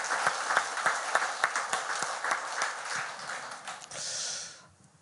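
Scattered clapping from a church congregation, uneven and moderately loud, fading out near the end.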